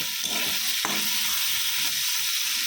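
Spiny gourd (kakrol) frying in a pan, a loud, steady hiss of sizzling oil that runs throughout, with one brief sharp click near the start.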